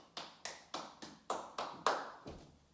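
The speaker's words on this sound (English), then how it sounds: "give yourselves a clap" A small pilates class claps together after a session: about nine distinct, evenly spaced claps at a moderate steady rhythm, close and clear with nothing else in between.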